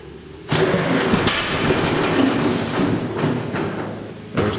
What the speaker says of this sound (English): as soon as I hit the start, it'll pop, and then I'll have to crank for a couple times.